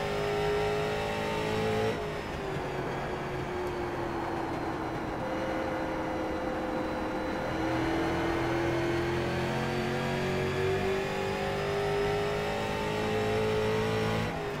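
Street stock race cars in the iRacing simulator scream continuously at high revs, the engine whine rising and falling with gear changes as other cars close in, heard without talking.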